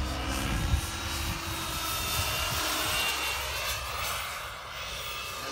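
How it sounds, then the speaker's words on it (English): A turbine-powered RC model jet, the Whiplash, flies at the IRCHA 2019 event, its steady jet roar and whine holding throughout at moderate distance, with wind noise and no talking. "it does the same thing just like any other engine, even though it's a turbine"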